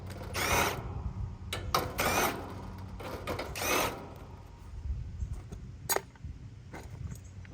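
A power drill takes screws out of an air conditioner panel, whirring in several short bursts close by, with scattered clicks and clunks of metal between them.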